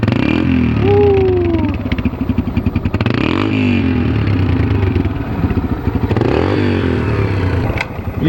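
A Yamaha TTR 125 four-stroke dirt bike engine runs loud and close after a kick start, idling with a rapid chattering pulse and a few blips of revving, with some mechanical clatter throughout.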